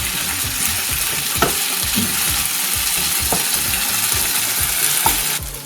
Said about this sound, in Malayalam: ഇനി ഇത് ഹൈ ഫ്ലെയിമിലിട്ട് ഒരു 1 മിനിറ്റത്തേക്ക് നമുക്ക് ഒന്ന് ഇളക്കി കൊടുക്കാം.